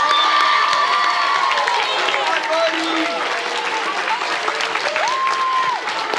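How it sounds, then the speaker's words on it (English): Loud, continuous applause and cheering from an audience at a youth sports team's end-of-season awards ceremony, with whoops and children's shouts mixed in, sustained throughout with voices talking underneath. "let's give them all a big round of applause"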